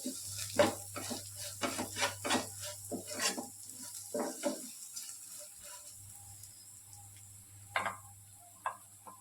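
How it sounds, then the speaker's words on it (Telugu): Curry leaves frying in a pan, heard as a quiet, faint sizzle broken by irregular scraping and clicking from stirring against the pan. "కొంచెం కరివేపాకు కూడా వేసాను. లైట్గా అయితే ఇలా ఫ్రై చేసేసుకోవాలి."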